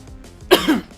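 A short, sharp cough bursts out, followed by a rougher second hack, then a brief quieter cough at the end; close and fairly loud.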